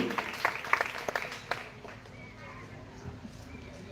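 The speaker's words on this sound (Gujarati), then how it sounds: "જોરદાર તાળીઓથી વધાવી લઈશું" Applause at a school Independence Day event greeting a donation of one thousand and one rupees: a short burst of clapping from a crowd that fades after a second or two, leaving quiet room noise.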